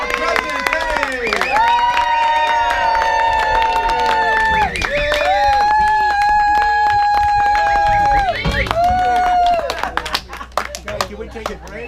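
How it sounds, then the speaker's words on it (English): Loud crowd applause and cheering greet the president at a 2018 cabin party, with sustained whoops and voices ringing over steady clapping for about ten seconds before it thins out. "A lot of applause."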